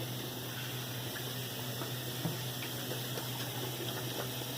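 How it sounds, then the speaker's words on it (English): Tap water running steadily into a sink as hands are washed, a soft continuous stream with faint splashing and no voices. "So now we're gonna wash our hands."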